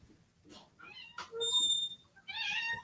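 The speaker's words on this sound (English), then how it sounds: "Oh, and our cat has just come in the room." A cat in an indoor room meows several times, with short rising cries and a longer, louder call at the end, mixed with a soft human voice.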